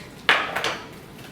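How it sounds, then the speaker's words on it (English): A whisk stirring a slime mixture with warm water clinks sharply against the bowl, one bright hit followed by a couple of softer scrapes, close and brief. "Stir it in with a whisk."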